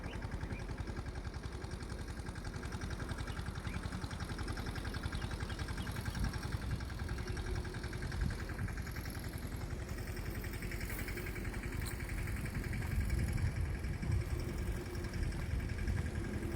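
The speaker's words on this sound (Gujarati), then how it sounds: "જો અહીંયા ટ્રેક્ટર હાલે" Tractor engine running steadily in a field during groundnut sowing after light rain, a continuous low mechanical drone with vibration that stays constant throughout, moderately near, with no talking.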